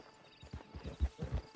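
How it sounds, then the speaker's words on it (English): Horse hooves clip-clop at a walk in the Red Dead Redemption 2 video game, a steady run of soft, close thuds that grow heavier over a second and a half with no talk. "Get on the horse there."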